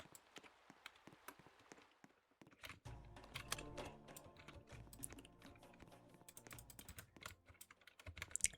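Computer keyboard keys pressed while running a ride in a Roblox game, a burst of sharp clicky typing taps following a quieter stretch, with tapping continuing at a steady uneven rhythm, close and moderately loud.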